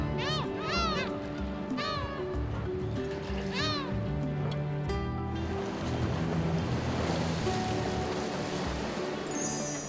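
Sea waves wash and surge along the clear, emerald coast of Ulleungdo in winter. A continuous loud wash of surf fills the scene, with several rising bird-like cries in the first half.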